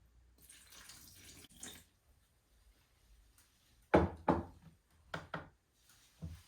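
Water poured into a bowl of sourdough starter, a short trickle followed by a few separate splashy pours and drips, close and fairly quiet with gaps of silence between.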